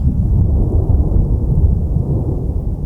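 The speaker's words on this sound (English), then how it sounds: "Second comes a long rumble." Long low rumble of thunder during a thunderstorm, a loud continuous deep roll that holds steady without a sharp crack.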